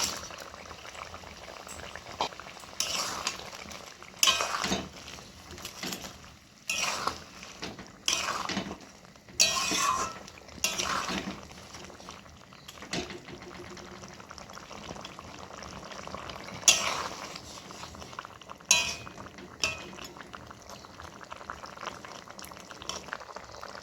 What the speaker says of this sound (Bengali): এবার আমি এর মধ্যে মাছগুলো দিয়ে দেবো